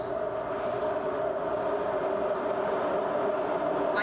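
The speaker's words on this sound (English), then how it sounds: "Like that train." A train rumbles past outside a spiritual center, a continuous loud low roar with steady mechanical droning that holds level throughout without fading.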